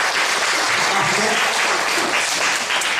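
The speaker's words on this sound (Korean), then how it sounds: "박수 칠 때까지 할게요." A church congregation claps steadily for the whole stretch, a dense, continuous wash of applause with faint voices mixed in.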